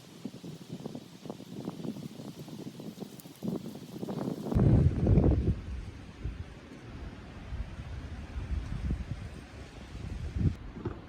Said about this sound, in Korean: 피곤해서 누워있는데 바람이 엄청 불어요